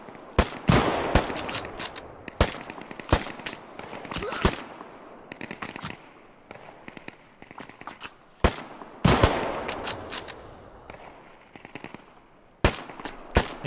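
Gunfire in the survival shooter Deadside, sharp single shots and short bursts cracking out irregularly across the clip, with quieter gaps and faint talk between them.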